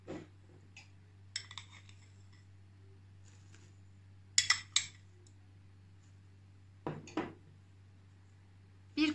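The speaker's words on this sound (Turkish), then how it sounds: "Bir kaşık yardımıyla karıştırıyorum bu şekilde." A spoon stirs chocolate cake batter studded with chocolate pieces in a bowl, giving a few scattered clinks and scrapes against the side, fairly quiet and alone over a low steady hum.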